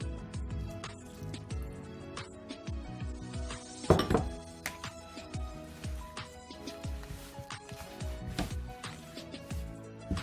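A spoon clinks and thunks against a bowl while the Nigerian bun (bofrot) mixture is stirred after lukewarm butter is added. Irregular light taps and scrapes repeat throughout, with a heavier knock about midway.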